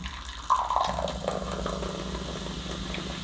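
Hot water poured into a glass over a dissolving vitamin preparation, a close splashing rush settling into a steady fizzing stream.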